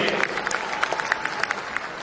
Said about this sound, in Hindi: राममणि बलवंत जी का आप एक लाख ताली से स्वागत करिए